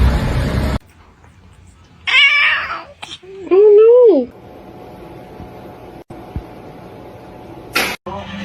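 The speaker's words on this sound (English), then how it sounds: "That looks like a house cat." A house cat meows twice, the second a longer drawn-out cry, over a low steady background hum.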